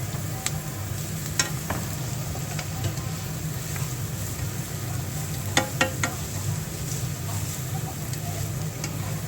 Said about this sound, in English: she's going to re-add it into the frying pan with the onions